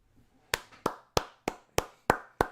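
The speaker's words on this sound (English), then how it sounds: "Round of applause all around, people" Seven slow, sharp hand claps at an even pace, close and crisp, like one person applauding alone.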